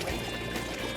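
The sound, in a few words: water rushing into a sinking car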